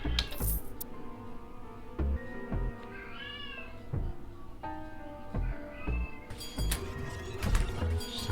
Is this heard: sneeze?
no